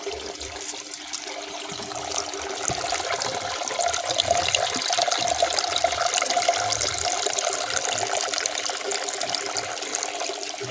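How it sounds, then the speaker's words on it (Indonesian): A hydroponic pump sprays water from a height of about one meter in a steady, strong rushing hiss that holds for the whole stretch, close and fairly loud with no talking. "Semburannya masih kencang."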